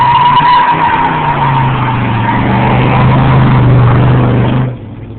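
A Pontiac pickup truck does a burnout, its engine holding a loud steady drone with screeching tire squeal layered on top for several seconds before the sound drops away.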